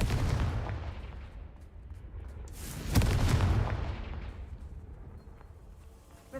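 A Confringo fire-blast spell in Hogwarts Legacy, a booming burst at about three seconds that rolls off into a long fading rumble amid ongoing game ambience, moderately loud.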